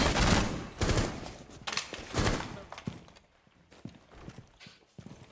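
Gunfire during a Rainbow Six Siege terrorist hunt: several sharp bursts of shots up close, dense in the first seconds, then sparser single cracks and thuds trailing off.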